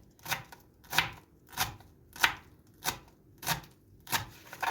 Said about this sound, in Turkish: Şimdi ince ince maydanozumu doğruyorum.